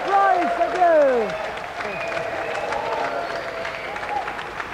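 A studio audience applauds the winner on the GamesMaster TV game show, a steady moderate clapping bed under bright sweeping electronic tones and jingle notes at the start.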